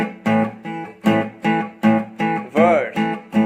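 Acoustic guitar strums through the verse chords of a song, a steady series of evenly spaced, ringing strums, close and alone with no voice.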